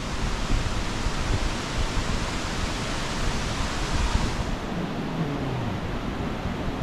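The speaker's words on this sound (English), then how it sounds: "Here's the waterfall from the, oh, it's a better view from down here." Waterfall at Thunder Ridge Nature Arena, a dense, constant roar of falling water heard up close and loud, with no voices over it.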